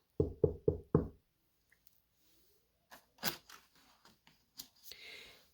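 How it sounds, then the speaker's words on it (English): Four quick, close knocks on a door in a sharp even rhythm, followed by quiet and then a few scattered soft thumps and rustles. "there was a knock at the door"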